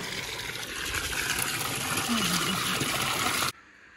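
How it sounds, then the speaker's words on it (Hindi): Water gushes and splashes steadily over wheat grain being washed, a broad continuous rush that stops abruptly near the end, leaving quiet background. "गंदगी निकल रही है गेहूँ से जब हम धो रहे हैं तो ये देखिए"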